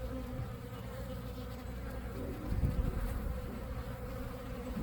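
A swarm of bees buzzes around the start of a new hive, a faint, steady drone of many insects that swells briefly midway, with no talking.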